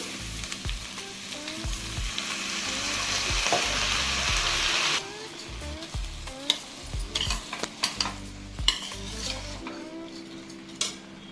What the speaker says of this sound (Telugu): ఇది కొంచెం సేపు వేగాలండి, ఒక 2 to 5 minutes.